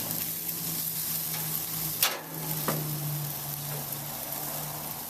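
Chicken breasts sizzling on a gas grill, a steady close hiss of frying over a faint low hum, broken by two sharp scraping clicks.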